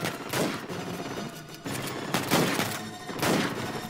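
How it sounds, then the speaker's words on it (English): Gunfire in the video game Uncharted 4: repeated bursts of shots with booming impacts, several loud volleys over a dense background of game noise, with no talking. "Who the fuck is shooting me?"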